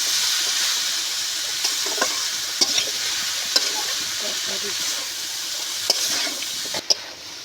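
Radish and cabbage curry stir-frying in a pan gives a steady bright sizzle, punctuated by several sharp scrapes and taps of a spatula against the pan, close and loud with no voices.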